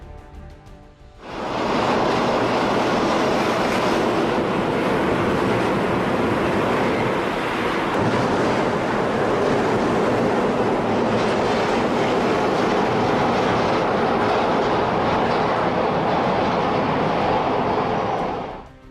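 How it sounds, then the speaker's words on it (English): A suspended monorail train arrives with a sudden loud rushing roar after a quiet second. The dense, steady rumble of air and wheels holds close and constant for over fifteen seconds, with no voices. "This footage shows a suspended monorail"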